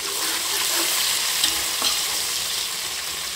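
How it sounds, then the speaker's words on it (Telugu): Chopped onions and green chillies sizzle steadily in a pan, with a close, continuous frying hiss and a few soft stirring scrapes. "ఇవి గోల్డెన్ బ్రౌన్ కలర్ వచ్చేంత వరకు ఫ్రై చేయాలండి."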